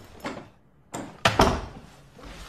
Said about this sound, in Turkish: Kapıyı kapat bari.